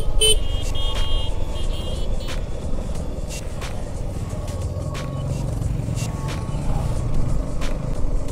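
A group of motorbikes approaching along a hill road in Ajodhya Hill, Purulia, heard as a steady, continuous engine rumble that stays loud throughout, with faint horn toots now and then.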